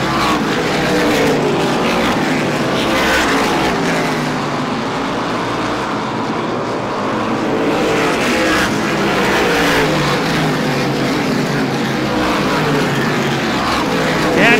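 Loud roaring engines of super late model race cars at speedway racing down the straightaway, a dense continuous drone swelling as cars pass, with an announcer talking over it.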